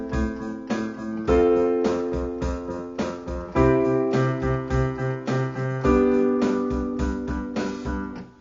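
Pop-rock piano with right-hand triad inversions held as whole notes over a steady eighth-note left-hand pattern, sounding as sustained chords that change every couple of seconds above an even, pulsing bass.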